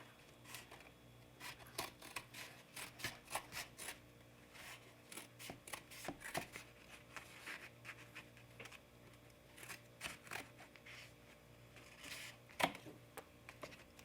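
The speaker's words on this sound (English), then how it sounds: "I'm just going to trim off some of the excess back here." Someone snips the excess off the back of a painting with scissors or a blade, making a steady run of short, quiet cuts and crisp ticks. The work is close and faint, with no talking.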